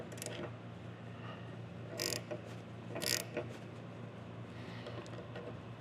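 A bolt being tightened on a Harley-Davidson Dyna clutch during a chain drive conversion, heard as quiet mechanical ratcheting and clicking with two sharper, louder metallic bursts partway through.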